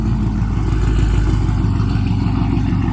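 A catless Chrysler 300 engine runs loud and close with a deep, steady rumbling exhaust drone, holding a fairly even rev throughout with no voices over it.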